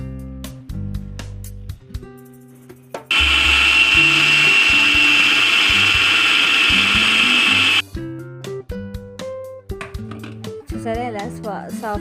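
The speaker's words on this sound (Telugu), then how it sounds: "ఇది మిక్సీ పట్టేసుకోవాలండి. మంచిగా మెత్తగా గ్రైండ్ చేసుకోవాలి." Mixer grinder whirring loudly as it grinds rice smooth, a steady high motor whine lasting about five seconds, with talk before and after it.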